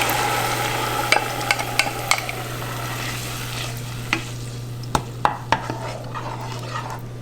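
Tomato sauce added to toasted garlic in a pan sizzles steadily as a spoon stirs it, with sharp clinks and scrapes of utensil against pan scattered throughout and a constant low hum in the background.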